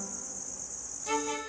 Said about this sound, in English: So this right here, this is a cricket farm.